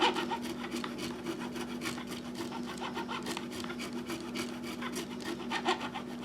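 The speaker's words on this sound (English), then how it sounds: "even with the sanding, there are some small signs of wear still on this fret." Rapid rhythmic rasping of sandpaper rubbing over the frets of a Danelectro Danoblaster guitar, close and continuous strokes with a steady hum underneath.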